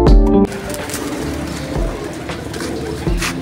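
White pigeons coo in soft, low repeated calls against a steady background murmur, with a louder burst at the start.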